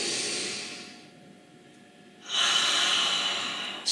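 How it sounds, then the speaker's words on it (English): Slow, deep breaths during a shoulder-stretching exercise: a long airy inhale, a quieter pause, then a strong hissing exhale, close and alone. "So deep breaths."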